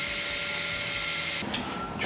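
A power drill whines steadily at close range for about a second and a half, then its pitch shifts as the bit works through a kayak deck.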